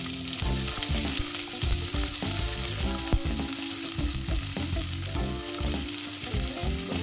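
Onion and green chili frying in oil with reddened garlic for a kalmi greens dish, a steady loud sizzle with intermittent stirring scrapes and clinks of a spatula throughout, no voices.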